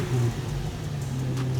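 A drift project car's engine idles steadily nearby, a low even hum with a faint wavering note and no speech.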